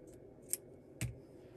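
Scissors cut a strand of knitting yarn, a faint snip followed by a sharper, louder close of the blades about half a second later, in a quiet room.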